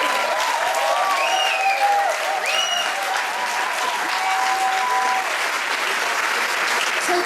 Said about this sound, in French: Je vous demande de faire un tonnerre d'applaudissements aux joueurs qui rejoignent les coulisses